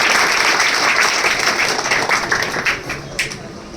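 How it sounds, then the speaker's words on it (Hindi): A crowd at a school honour ceremony breaks into loud, steady applause, a thick wash of clapping that holds throughout and tapers only slightly near the end. "एक बार उनके लिए जोरदार तालियां।"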